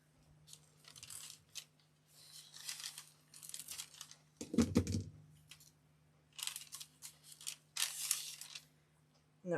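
Scissors snip through thin pieces of dried paint skin in short bursts of crisp cutting and crinkling, with a soft thump midway and quiet pauses between cuts.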